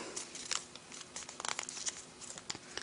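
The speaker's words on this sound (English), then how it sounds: "Now we take this flap and we're going to pull it out and bring it on top. And we take this flap and fold it up." Origami paper crinkles and rustles as flaps are pulled out and folded up while shaping a paper rose, producing faint, irregular crisp crackles up close with no voices.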